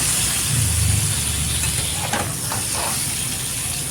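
Eggplant fries in oil in a pan over a gas flame, giving a steady close hiss with a low rumble and a few brief sputters, no talking.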